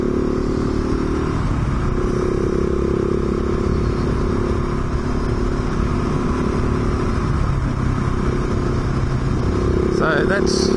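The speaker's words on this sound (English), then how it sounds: "This is an angry motorbike." A rough-running motorbike with no fairing rides over dirt, its engine note loud and close, holding steady throughout with a few revving swells toward the end.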